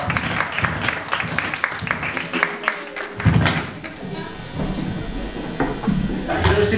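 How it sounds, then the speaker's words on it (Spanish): Audience at a club album launch at Sala SCD Bellavista clapping after a call for applause, the claps loose and roomy with shouts and voices mixed in, thinning midway before picking up again. "¡Un aplauso a él, por favor!"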